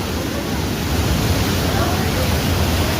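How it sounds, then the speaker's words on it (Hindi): A waterfall tumbling between tall mountain walls in Kashmir gives a steady, dense rushing roar that fills the clip at an even, fairly loud level without letting up. "पहाड़ों की लंबी और ऊंची दीवारों के बीच में ये वाटरफॉल है, ये उसका दूसरा हिस्सा है।"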